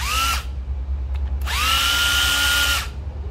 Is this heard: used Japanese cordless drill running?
yes